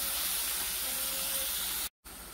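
Tomatoes and coriander sizzle and hiss steadily in a hot pan while being sautéed, a continuous close frying noise with a brief cut near the end.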